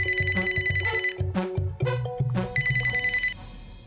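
A telephone rings in a repeated electronic ringtone pattern, loud and close, in a home setting in a Marathi TV comedy serial, with no talk over it.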